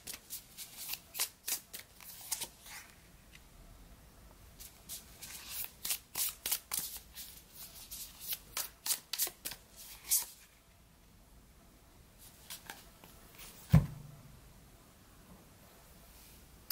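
Tarot cards shuffled by hand in a quiet room, a long run of rapid riffling bursts in quick rhythmic clusters, then pauses, with a final sharp tap as the deck is squared; close and fairly soft.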